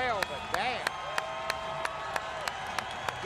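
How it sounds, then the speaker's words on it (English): Crowd cheering and clapping at a redneck brawl fight, with sharp regular claps standing out over a steady murmur of voices and whoops, people talking throughout. "The crowd's loving it"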